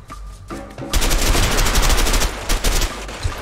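Rapid automatic gunfire in the video game A Way Out, a dense continuous burst of loud shots starting after a brief quieter lead-in and running to the end.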